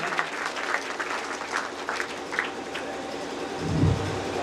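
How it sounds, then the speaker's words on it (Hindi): Loud audience applause welcomes a guest at a motivational seminar, a dense steady clatter of many hands running through the clip with a low thump near the end. "प्लीज जोरदार ताली से स्वागत किया जाए"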